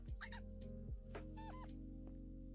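Chicken in a video game clucking in a few quick bursts, close and clear over a steady low game hum.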